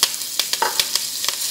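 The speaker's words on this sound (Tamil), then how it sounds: "இப்போ இந்த கருவேப்பிலையே போட்டுடலாம்." Curry leaves crackle and pop in hot oil while tempering dal for rice upma, a close, steady sizzle broken by sharp, irregular spits and bursts.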